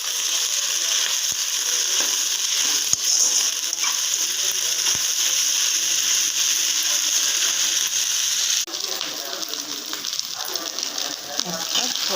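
Snake gourd fried rice with egg sizzles steadily in a frying pan as it is stirred, a continuous hiss broken by occasional sharp scrapes and clicks of the spatula, the tone shifting slightly near the end.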